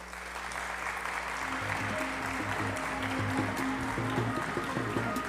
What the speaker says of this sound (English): Let's have a round of applause for the ward candidates.